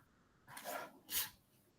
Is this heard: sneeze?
yes